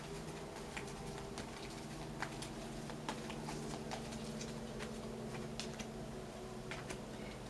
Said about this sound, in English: I'm going to pull some cards now from the second deck.